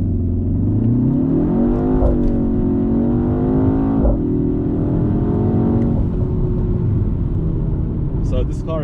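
A 2024 BMW X1 M35i SUV launches hard with launch control, its engine rising in pitch through the gears with clear shift breaks. The loud, close cabin rumble continues under steady talk.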